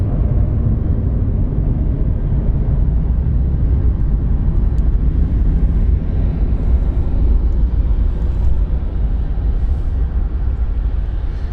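A passenger aircraft accelerates along the short runway at London City Airport, its engines a loud, unbroken roar that stays steady and close throughout.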